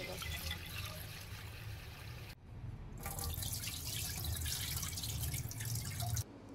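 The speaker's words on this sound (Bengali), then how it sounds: "জল বদলে বদলে চালটা ধুয়ে নেব" Black rice (kalonunia) is washed in water by hand, with steady running and splashing water and a brief pause partway through, close and continuous.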